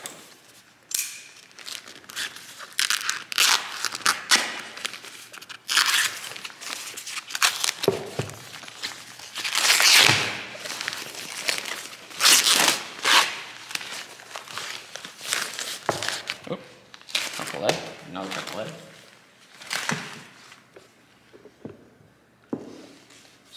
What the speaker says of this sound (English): And let's cut this thing open too.